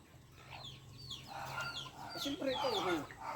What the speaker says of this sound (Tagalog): At ito po yung mga native na manok.